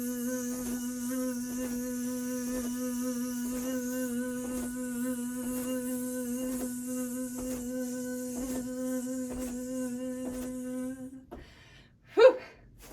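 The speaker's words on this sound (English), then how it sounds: "let's do that with a Z sound" A voice sustains a steady buzzing Z sound for about eleven seconds as a breath support exercise, even and close like an insect drone, followed by a sharp inhaled gasp.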